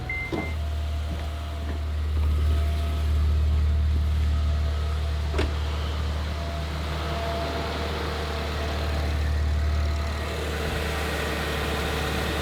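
A Honda Civic Si, eighth generation, idles with the air conditioning on and its AC compressor clutch spinning, giving a steady low engine hum with a faint whine and a few light clicks throughout.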